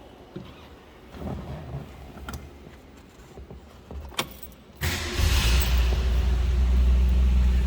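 A 1965 Ford Mustang Convertible engine cranks with a few clicks and a brief whir, then catches and settles into a loud, steady rumbling idle.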